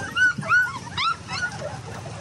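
Little puppies whimper and yip in high, thin squeals, several short cries in a row close by, with faint background noise underneath.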